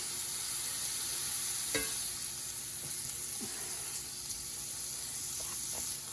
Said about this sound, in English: on each and every surface right at first, just like that. Just like a light sear.